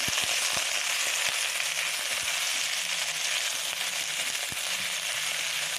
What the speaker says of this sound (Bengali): কথা বলতে বলতে সব মাছের পিসগুলো আমি ভেজে নিলাম।